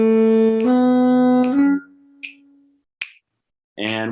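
A saxophone plays three slurred notes in a row, tongued only on the first, each sliding smoothly into the next, close and clear. A few soft clicks follow, then another note starts.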